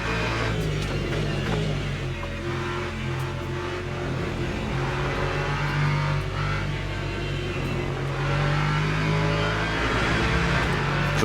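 In Le Mans Ultimate, a Lexus race car engine hums loud and continuous from onboard, its pitch slowly dropping and climbing again through gear and speed changes, with no voices present.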